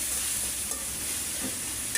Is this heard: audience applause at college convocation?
no